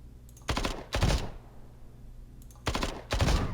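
Sentry turret gunfire in the Templar Battleforce video game: two pairs of short, sharp automatic bursts separated by a pause, moderately loud with no talking.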